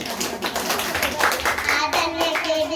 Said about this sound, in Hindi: जोरदार ताली अंकिता के लिए।